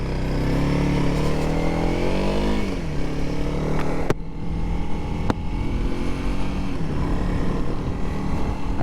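A Honda CRF300L motorcycle being ridden in winter, its engine droning steadily with shifting pitch as it accelerates and changes gear, plus rushing wind noise and two sharp knocks in the middle.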